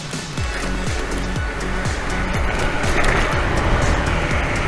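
Hiboy Titan Pro electric scooter speeding across a road bridge, wheels thumping in a fast regular rhythm over deck joints amid loud wind rush, no talk.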